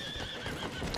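A brief, moderately loud horse whinny from a video game rings out over clattering hooves in a one-second burst.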